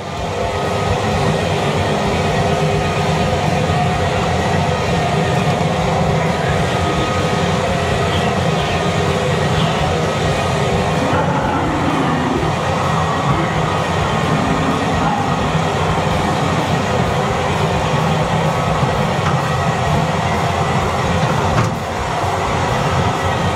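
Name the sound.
train ride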